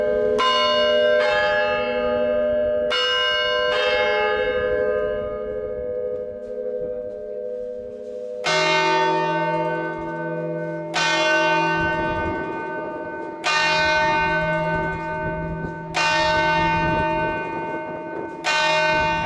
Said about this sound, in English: climb up the bell tower and see the bells ring in real life